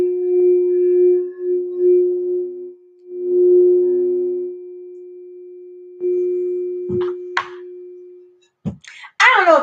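A large singing bowl rings with a deep, steady sustained tone that holds for several seconds, swelling and fading, then ends with a few brief knocks and rustles.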